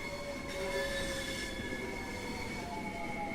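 A train runs in Train Sim World 3, steady and close, with wheels squealing and steady high tonal whines over a continuous rumble and no voices.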